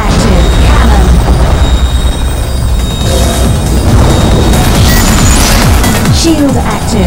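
Cannon fire and explosions during a Venom-class race on the Metropia track in Wipeout HD, rapid booms and pops layered over loud, dense music and engine roar, with an announcer's voice in the mix.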